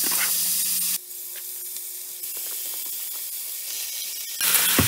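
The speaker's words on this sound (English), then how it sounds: "that's oil heated up, so we're going to go ahead and put our turkey in." Ground turkey hits hot olive oil in a skillet, giving a loud, bright, spitting sizzle and hiss. The sound is close, rises sharply at the start and near the end, and runs alone without talk.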